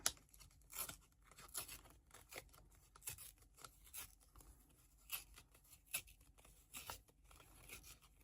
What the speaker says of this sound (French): je vais venir faire un petit trou au milieu pour pouvoir déchirer